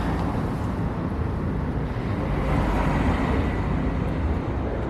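A 1979 Suzuki GT250 X7 motorcycle engine runs steadily, a continuous loud even hum at a showroom in Doncaster.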